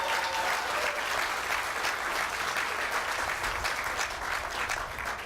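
At a city's state-of-the-city event, an audience claps in sustained, dense applause, loud and steady throughout, fading slightly at the very end.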